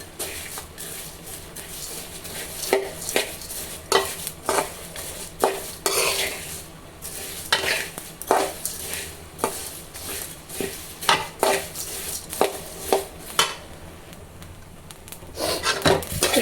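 Dried turmeric root is stirred and dry-roasted in a pan, a spatula scraping and knocking in irregular strokes over a faint background sizzle, close and clear with no talk.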